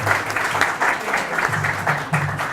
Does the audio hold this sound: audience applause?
yes